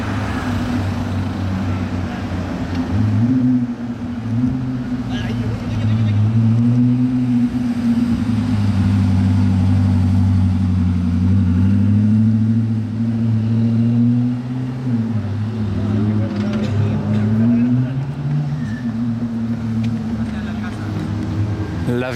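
A Koenigsegg Jesko supercar in Monaco gives a loud, deep engine note that swells and shifts in pitch as it approaches and passes, with a voice talking over the engine.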